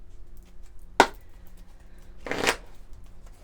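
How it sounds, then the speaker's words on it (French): Oracle cards shuffled by hand indoors, two short riffling bursts a second and a half apart, close and fairly soft against a quiet background. "on va prendre quelques cartes de l'oracle de l'union sacrée"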